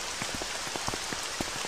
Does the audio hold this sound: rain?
yes